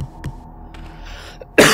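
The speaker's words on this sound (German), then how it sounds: "Oh, ist das ätzend, dieser Husten." A single short cough and a brief throat sound, close and fairly quiet, then a louder burst of noise at the end, with no talking.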